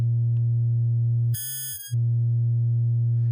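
Steady electronic feedback tones from a no-input mixer app on iOS hum loud and pure, briefly bending into a higher warbling pitch before dropping back to the low drone.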